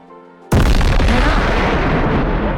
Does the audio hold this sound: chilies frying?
no